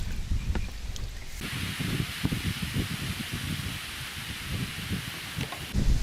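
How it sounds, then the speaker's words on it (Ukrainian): Strong wind buffets the microphone outdoors while float fishing, a continuous rushing roar with low gusty rumbles and rustling throughout, and no voices. "Так, друзі, піднявся дуже сильний вітер"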